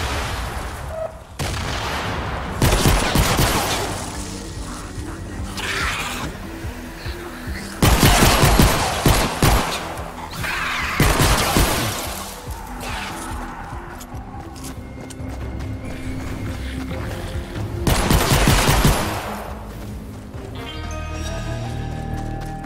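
Fortnite video game combat with gunfire and explosions, loud repeated bursts of shots and heavy booms over a steady game backdrop, with no talk.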